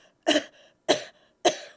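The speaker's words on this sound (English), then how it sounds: "even as I coughed here in the studio, without a mask on" Three separate coughs from one person in a studio, each a sharp burst that tails off, evenly spaced about half a second apart and fairly close and clear, with no talk around them.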